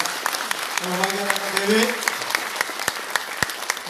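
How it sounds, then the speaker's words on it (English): Forum audience breaking into sustained applause, many hands clapping at moderate volume while someone speaks over the start of it. "Another round of applause, please"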